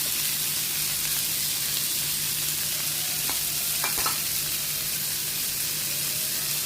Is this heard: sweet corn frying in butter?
yes